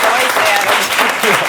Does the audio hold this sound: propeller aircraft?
no